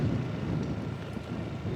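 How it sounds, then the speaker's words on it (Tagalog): Steady, heavy wind roars and buffets the microphone, a dense low rumble with no pauses and no other clear sounds. "Lakas ng hangin."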